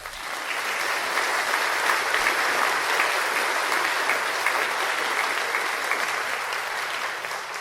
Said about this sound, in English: So can we get a round of applause for them again?